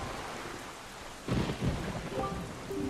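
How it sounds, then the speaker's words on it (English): Thunder rumbles in over steady rain on a cursed island in Wind Waker, a low roll breaking out midway and lingering beneath the constant patter, with no voices. "this place suffers under dark clouds and rain"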